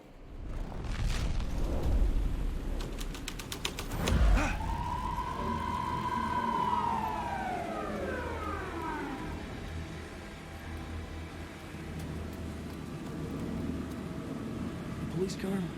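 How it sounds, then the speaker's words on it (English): A police car siren in the video game Alan Wake 2 sweeps up and down in one long wailing cycle. It rises out of a muddle of background game sounds and then fades away. "Police car? Not important to the story."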